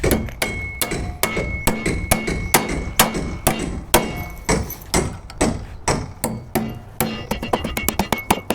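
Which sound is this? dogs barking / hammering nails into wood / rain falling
hammering nails into wood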